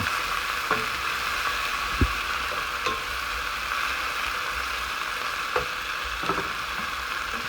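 Garlic sizzles steadily in a hot frying pan while being stirred in with fish, with occasional clicks and scrapes of a utensil against the pan over the continuous frying hiss.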